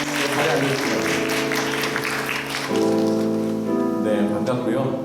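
A church congregation claps through a Sunday worship service while keyboard music holds sustained chords, the clapping a steady, dense patter from start to finish.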